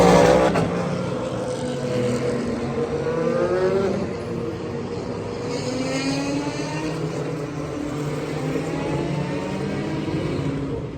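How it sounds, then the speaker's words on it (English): Race cars at the Watkins Glen six-hour endurance race drone past, with a loud engine sweep at the start fading into a steady, shifting roar of several cars as they pass by and recede. "now that the cars have driven by"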